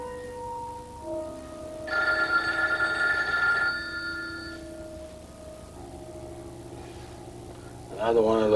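An old telephone rings in a 1984 film scene, a bright trilling bell burst that stops after a couple of seconds and then starts again near the end, over quiet room tone with low voices.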